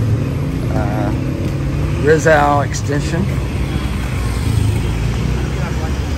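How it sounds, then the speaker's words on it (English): Steady Friday-evening road traffic rumbles near the SBMA gate in Olongapo, a continuous low engine drone with passing vehicles throughout, while someone speaks briefly over it midway. "Quite a bit of traffic as expected, like I said, on a Friday evening."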